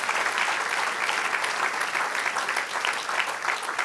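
Sustained applause from a church congregation, many people clapping at once in a continuous, uniform roar.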